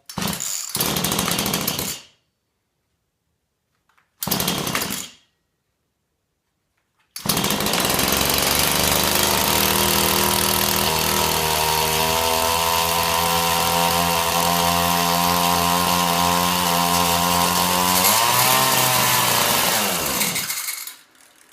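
A chainsaw engine mounted on a homemade minibike sputters in two short bursts, then starts and runs loud and steady, revving before cutting out.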